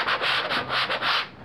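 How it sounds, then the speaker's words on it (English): Rhythmic scuffing of a sanding block rubbed back and forth over a hard HDPE (King StarBoard) plastic board, close up, in even strokes with no talking. "So the sanding block is picking up some of that product."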